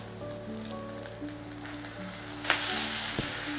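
Chopped onions and tomatoes sautéing in a pan for egg thokku give a soft, steady sizzle with faint crackles and a few stirring clicks, close-miked and moderately quiet.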